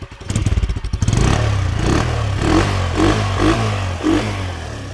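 Kawasaki KSR110 small motorcycle, kick-started and nearly new, idling close by with a rapid putter, then revved in several short blips over a few seconds, with light mechanical clatter and no talking.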